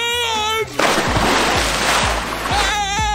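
A doll drops back into a swimming pool with a sharp, close splash, followed by several soft sloshing and lapping sounds as the water moves, while tonal effects or music play throughout.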